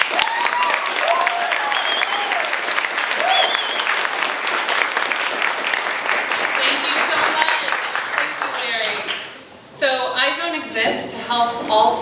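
Audience applause welcoming Julia at a university celebration event, steady clapping filling the room for several seconds, fading briefly before a short musical or spoken segment takes over.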